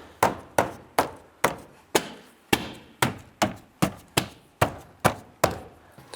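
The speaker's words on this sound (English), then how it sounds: "just give the door panel a few bops." About fifteen sharp, evenly spaced thumps as a palm taps the interior door panel of a 2002-2007 Jeep Liberty into place, close and clear with no talking.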